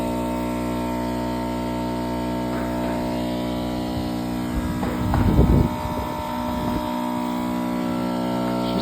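Super pump on a fire apparatus running hard during a flow test, a steady loud engine-and-pump drone with layered harmonic whine, swelling into a rougher surge midway before settling back to the constant roar.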